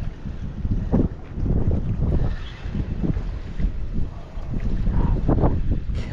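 Gusty wind buffets the microphone outdoors on a fishing trip ahead of a storm, a steady low rumble with repeated bursts, close and fairly loud with no talking.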